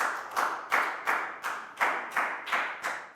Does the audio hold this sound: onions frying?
no